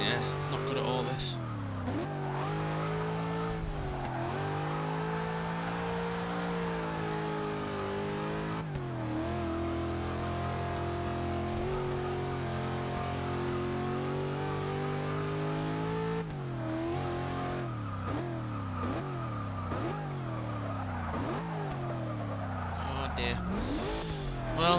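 A 1974 Toyota Corolla SR5 raced in Forza 6, its mid-pitched engine revving hard and climbing through repeated gear changes for the whole stretch, with brief tire squeal and a voice talking over it.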